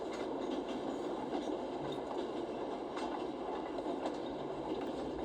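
A train rolls along the rails in the video game The Raven, a steady low rumble of wheels and carriage with faint rhythmic clacks, continuous throughout and with no voices.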